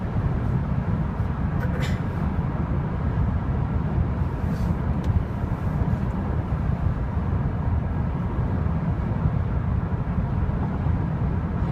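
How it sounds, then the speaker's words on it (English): A 2008 Lexus IS250 engine while driving, heard from inside the car as a steady, dense low rumble mixed with road noise that holds evenly throughout with no distinct revving. "The engine does sound pretty good too"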